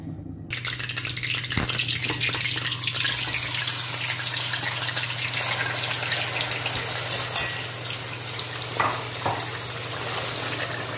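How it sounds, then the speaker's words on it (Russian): Flour fries in heated oil in a pan for a goulash gravy, giving a loud, steady sizzle and crackle throughout, with occasional stirring scrapes. "Будем жарить муку до золотистого цвета, до румяного цвета."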